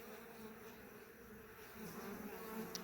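Honeybees buzz in an open hive during an April inspection, a faint, steady, close hum of many insects with small rises in intensity.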